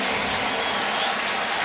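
A packed football stadium crowd roars in a steady, dense wall of cheering and applause during a Buccaneers at Saints NFL game, sustained and loud throughout with no break.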